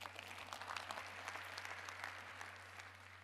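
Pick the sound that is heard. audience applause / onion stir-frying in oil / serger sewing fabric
audience applause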